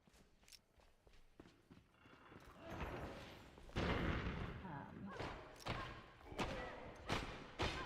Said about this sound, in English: those guys are throwing bombs up there now